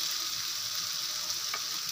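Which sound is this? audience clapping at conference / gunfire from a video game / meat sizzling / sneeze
meat sizzling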